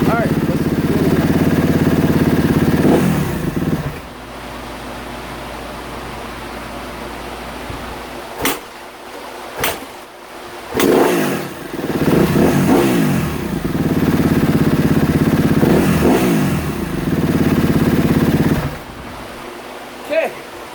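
Kawasaki KX250F dirt bike engine idling low with a steady rumble, then revved in several rising and falling bursts with sharp pops between, loud and close with wind noise.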